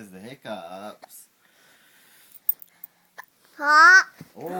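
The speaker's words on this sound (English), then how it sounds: "He has the hiccups." A baby hiccups and babbles, small abrupt hiccup catches breaking up short vocal sounds, close by with quiet pauses between.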